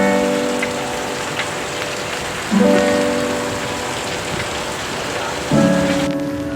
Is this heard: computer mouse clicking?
no